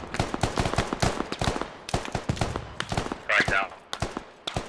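Gunfire in the military shooter game Squad, a scattered fusillade of shots from several weapons in an open, rocky area, mixed under steady radio-style squad chatter with one brighter burst near the end.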